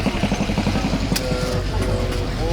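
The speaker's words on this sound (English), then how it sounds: "Not enough parking lot for this mini bike." A mini bike engine at a classic car show, Huntington Beach Donut Derelicts, revving in a rapid, buzzing putter that rises and falls, close by, with crowd murmur underneath and no clear speech.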